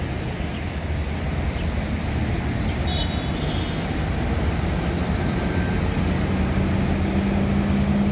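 A Putra Pelangi bus travels along the road, a steady broadband rumble of engine and tyre noise holding constant throughout with no talk.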